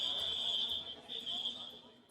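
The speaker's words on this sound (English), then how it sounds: "Thankfully, it's not a fire alarm, but a door alarm working normally as the inspection crosses secure areas." Door alarm sounding at an airport gate area during an inspection of secure zones, a steady high-pitched electronic tone holding nearly continuously, with a faint voice underneath.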